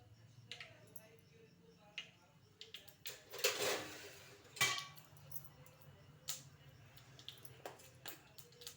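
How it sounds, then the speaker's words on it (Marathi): Mustard seeds popping in hot oil in a home kitchen, faint scattered pops and sharp crackles at irregular intervals, a couple of louder bursts midway, over a quiet low hum. "मोहरी फुटायला लागली आहे"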